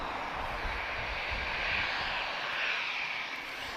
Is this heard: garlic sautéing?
no